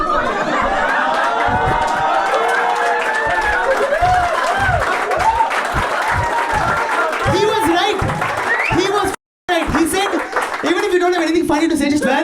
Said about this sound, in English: that's the biggest applause I got before I was on